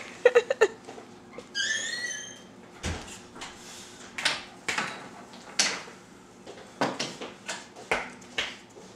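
A voice imitates a squeaking door with a series of short, rising squeals and creaks spread through a quiet room, close and fairly loud.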